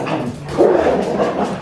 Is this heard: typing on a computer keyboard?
no